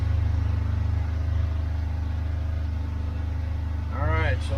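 Lawnmower engine idling steadily, a low, even mechanical drone that holds for the whole stretch, close and moderately loud, with a voice briefly speaking near the end.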